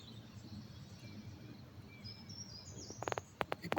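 Faint evening birdsong, with thin high chirps and whistles over a soft insect hum and low ambient rumble, ending in a few louder, closer clicks and taps; no one speaks.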